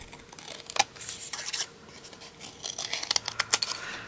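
Scissors snip through a strip of card used with polymer clay, with several sharp close cuts and rustling card handling in between, no talking heard.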